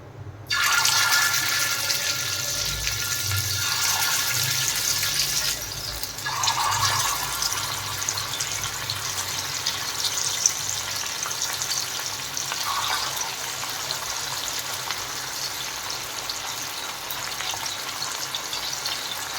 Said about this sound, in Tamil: எண்ணெய் காஞ்சிடுச்சு, ஒரு மீனாக போட்டுடலாம்.